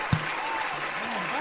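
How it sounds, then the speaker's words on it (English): Audience applause after a song at a live music show, a dense, steady wash of clapping throughout, with a single thump near the start. "if I had this applause after each song, it would be so fulfilling"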